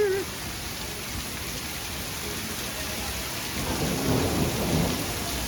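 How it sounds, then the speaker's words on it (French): Steady rain falls throughout with thunder rumbling in the background, swelling louder near the end, on a Uganda safari trip. "Il pleut, il mouille"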